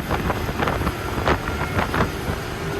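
Inside the cab of a 5-ton M1085 military truck while driving, a loud, dense roar of engine and road noise fills the space continuously, rough and broadband with no talk.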